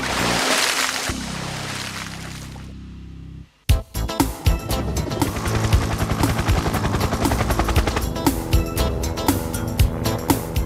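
A droning whine falls in pitch and cuts off, then a Schreiner helicopter's rotor thumps in fast, loud, rhythmic pulses over the North Sea.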